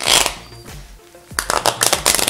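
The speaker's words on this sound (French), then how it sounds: "un faux mélange." A deck of playing cards is given a false shuffle during a four-aces card trick, producing two bursts of close, crisp riffling flutter separated by a brief quieter pause.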